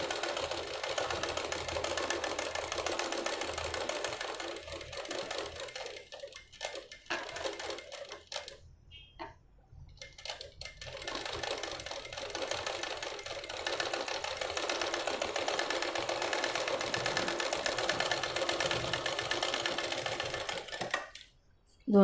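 A sewing machine stitches a boat neck blouse in a long, steady whirring run lasting most of the time, with a few brief pauses partway through and a sudden stop near the end.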